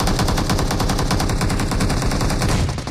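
Rapid bursts of automatic gunfire in the battle royale game PUBG Mobile, loud and close, with shots rattling continuously across the whole moment.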